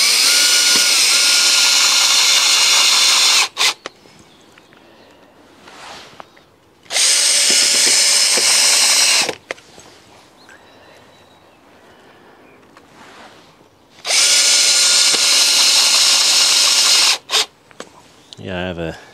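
A power drill drives screws into a wooden shelf in a garden poly tunnel, three loud sustained bursts of a few seconds each separated by quieter stretches of handling and room noise.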